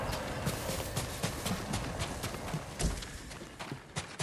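Horse hooves clip-clop in a steady running rhythm in the video game Ghost of Tsushima, close and fairly loud throughout, mixed with game ambience and no speech.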